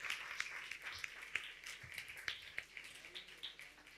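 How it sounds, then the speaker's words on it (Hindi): A congregation clapping hands during a church sermon, a brisk, fairly faint patter of many hands with sharper individual claps standing out, continuing steadily throughout. "तालियां बजाइए।"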